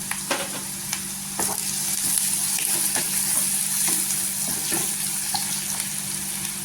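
Spring onion greens fry with golden onion in a pan, a close steady sizzle broken by repeated spatula stirs and scrapes, with no voice heard.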